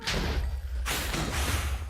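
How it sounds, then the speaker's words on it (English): Explosion in the Minecraft modpack Project Ozone 2, heard as a pair of muffled thuds with a rushing burst, moderately loud and close, the second hit broader and lingering into a noisy tail. "let's wait for the explosion and head in"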